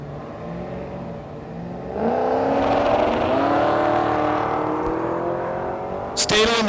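Drag race cars, a Chevrolet C10 and a Camaro, launch at Thunder Valley in Noble, Oklahoma. Engines idle low, then surge into a loud rising roar with climbing pitch, followed by a brief sharp burst near the end.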